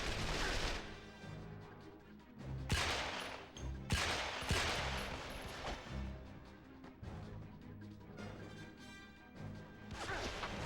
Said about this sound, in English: Is that him shooting at me?